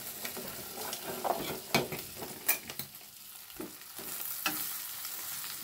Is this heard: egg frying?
yes